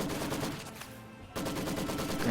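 Gunfire from German Grenadiers in the video game Company of Heroes during a rifle grenade attack: dense bursts of rapid shots, a brief lull, then the firing resumes loudly.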